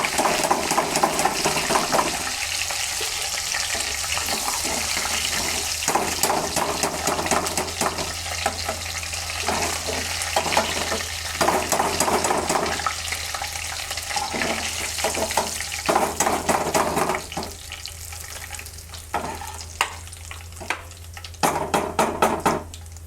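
Chicken frying in oil gives a dense, crackling sizzle that runs the whole time, loud and close, swelling in bursts with occasional spatters.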